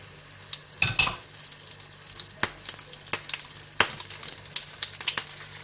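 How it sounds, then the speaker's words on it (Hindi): Onions dipped in batter fry in hot oil for tempura, a steady low sizzle with clatter and taps from utensils breaking through now and then, close by and no talking. "अनियंस को डिप करेंगे इसी तरह से बैटर में और इस तरह से फ्राई करते जाएंगे"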